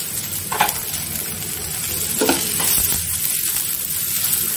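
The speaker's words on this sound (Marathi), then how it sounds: "ते पण मी चांगलं लाल होईपर्यंत कमी तेलामध्येच भाजून घेते।" Grated fresh coconut and onion fry in a little oil in a pan for a squid masala. A steady close sizzle is punctuated by a couple of brief scraping stirs, with no one speaking.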